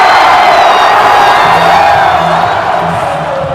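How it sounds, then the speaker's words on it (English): A home football crowd in Harrisburg cheers loudly and steadily after a confirmed touchdown, a dense roar of voices with scattered whoops, alone with no talk over it. "It's a happy home crowd here in Harrisburg."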